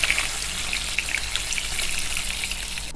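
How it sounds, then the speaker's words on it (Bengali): Pieces of katla fish fry in hot oil for a Bengali fish curry, giving a steady close-up sizzle with scattered crackles and pops and no talking. "এই মাছগুলো ভেজে তুলে নেব।"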